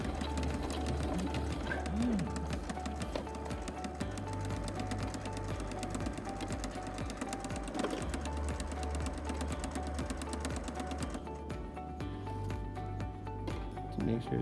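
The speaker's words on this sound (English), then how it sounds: "Now it's time to sew the strap to the face mask." A sewing machine stitches a strap onto an all-fabric face mask, a steady close whirring drone with a rapid needle rhythm that runs without pause, loud and alone.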